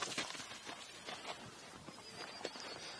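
Hooves clip-clop on the ground as a horse walks past during groundwork training, a soft, uneven series of hoofbeats at moderate distance.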